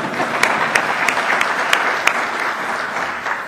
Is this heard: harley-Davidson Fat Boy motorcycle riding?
no